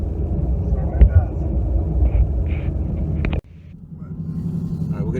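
A Whipple-supercharged 750 hp 2018 Mustang GT with stock exhaust rumbles low and steady from inside the cabin, with a faint whine on top, a brief sharp clunk, then a quieter drone, while people talk over it.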